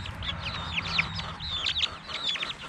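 Several chickens cluck and chirp in short bursts while dust bathing and fluffing their feathers, close and moderately loud over a low rustling background.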